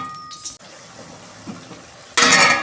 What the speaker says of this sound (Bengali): দেখুন বন্ধুরা, ঢাকনাটা আমি খুলছি।